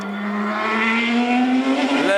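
A 1000 bhp Ariel Atom race car screams loudly on track, its engine note climbing steadily in pitch with a rising, sustained howl close to the listener.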